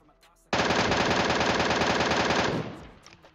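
A sudden, sustained burst of rapid full-auto gunfire in PUBG lasting about two seconds, loud and close, then cutting off into a fading echo.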